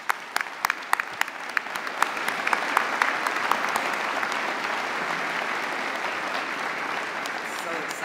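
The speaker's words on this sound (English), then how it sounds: "Let's celebrate them one more time with a round of applause." An awards ceremony audience applauding steadily, loud clapping that fills the space and holds level before slowly easing off.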